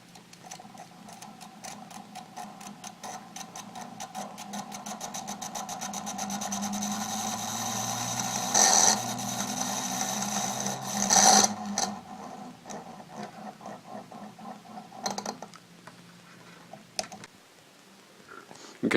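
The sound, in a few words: homopolar motor spinning, powered by big battery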